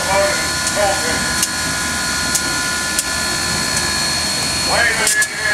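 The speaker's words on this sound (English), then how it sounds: "Going down into here now is a 25 horse motor. On the other side, turning 200 tons." A 25-horsepower electric motor drives a railway turntable swinging a coal-fired steam locomotive and its tender, a loud, steady, continuous mechanical roar and whine with faint clanks, as someone talks over it.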